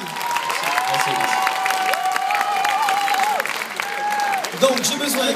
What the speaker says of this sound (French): Applaudissements pour ce jeune homme, s'il vous plaît